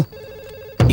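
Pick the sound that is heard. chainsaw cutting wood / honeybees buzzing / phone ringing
phone ringing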